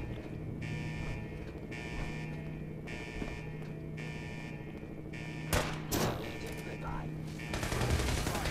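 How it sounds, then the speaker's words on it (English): Rocket launcher and gunfire in the video game Fallout 4, with sustained rapid bursts of automatic fire in a pulsing rhythm and a couple of louder blasts late on, under faint talk. "rocket launcher is doing the most."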